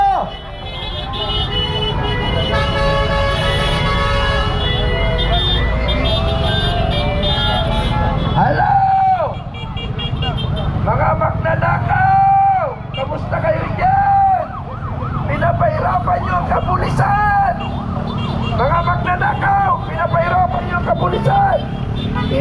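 Many car horns blare together in a political convoy, long overlapping tones of different pitches honking repeatedly and loudly, with voices shouting faintly amid the din.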